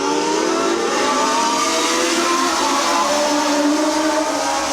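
Race cars pull away at a green-flag restart at Midvale Speedway, their engines a loud, steady, dense roar that holds without a break.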